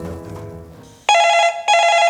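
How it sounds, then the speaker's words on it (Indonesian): A telephone at a police station rings with a loud, bright electronic trill in two bursts separated by a brief gap, following a stretch of softer background sound. "Ketika telepon berdering"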